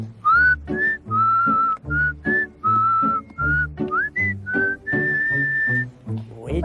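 A cheerful melody is whistled in short, bouncy phrases during a window-cleaning song on a 1993 children's television show, clear and close with a steady backing beat.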